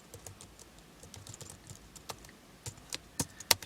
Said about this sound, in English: Just going to type some sample text there